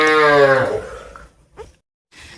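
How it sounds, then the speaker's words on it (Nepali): A cow on a village farm gives one long, loud moo that slides down and trails off, followed by a short grunt and a brief rustle, with no talk over it. "यो चाहिँ हाम्रो अर्को गाई है, कान्छी गाई।"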